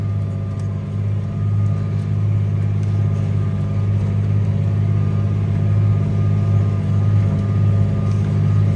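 A tractor pulls a Veles plough through a wheat field, its engine holding a steady, loud, low droning hum without letup and no voices over it.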